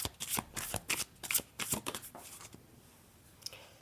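Tarot cards are shuffled up close in a quick run of crisp riffling bursts that fade to quiet near the end.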